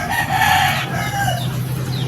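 A backyard-farm breeding rooster crows once, loud and close, a drawn-out cock-a-doodle-doo that fades at the end, with no talking.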